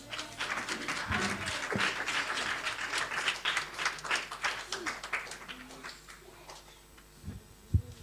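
Church congregation applauding at a Sunday thanksgiving worship service, brisk clapping in a reverberant hall that gradually thins out into scattered claps, ending with a sharp knock.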